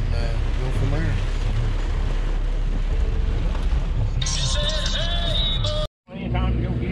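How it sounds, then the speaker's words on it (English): Engine roaring loud and continuous at a tractor pull in Golden City, Missouri, with a sudden brief cutout near the end. "Tractor pull, Golden City."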